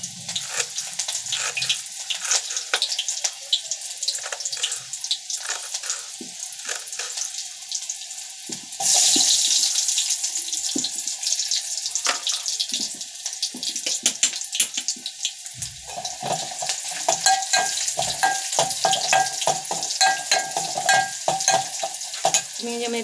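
Chopped onion frying in a hot pan for a curry of drumstick pods, with steady sizzling broadband crackle, scraping stir strokes and a sharp surge in sizzle midway as more goes in, no voices.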